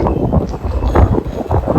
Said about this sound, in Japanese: 街散策に行こうと思ったらめちゃくちゃ強風